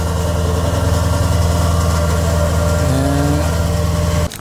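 A car engine idles with its exhaust set to quiet mode, a steady loud low rumble with a brief rising rev near the end before cutting out abruptly.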